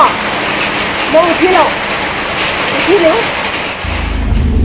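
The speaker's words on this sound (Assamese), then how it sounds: "পূৰা বৰষুণ কেনেকৈ বৰষুণ পৰিছে" Heavy monsoon rain pours steadily in a village setting, a dense close hiss of drops on surfaces that runs throughout while someone talks over it.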